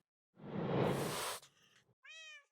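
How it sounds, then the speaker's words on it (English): A cat in Minecraft hisses in a loud, close, breathy burst, then gives a short meow, with no talk over it. "I swear this cat is hissing at this poor guy."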